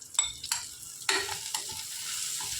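Green chillies, ginger, garlic cloves and coriander sautéing in a pan for chicken chilli, heard as soft sizzling with a few sharp stirring clinks early on, then a steady low frying hiss, close and without speech.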